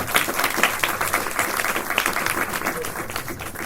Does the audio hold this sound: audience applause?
yes